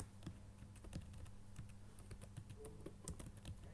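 Quick, close keystrokes on a computer keyboard tap out a short burst of typing, steady and fairly quiet with no talk over it.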